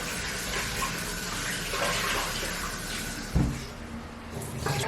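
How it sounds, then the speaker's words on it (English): Rice is washed in water, with continuous running and sloshing water, a few clunks of a pot or bowl, and one sharp knock partway through. "I wash it for 3 times until the water runs clear"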